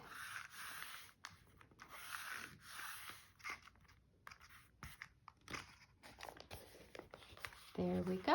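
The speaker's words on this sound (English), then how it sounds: "Okay, smoothing it out." A paper Christmas journal cover is smoothed flat by hand, giving soft, scratchy rubbing and faint crinkling strokes in uneven bursts, close up and quiet, with a low voice faintly in the background.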